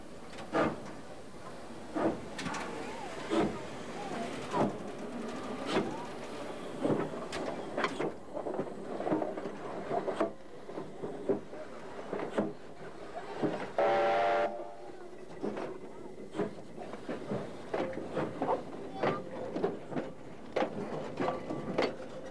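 Steam locomotives 4472 Flying Scotsman and 3801 run together in Australia, giving a continuous rumble of wheels and exhaust with a brief whistle-like tone near the middle, at moderate level throughout.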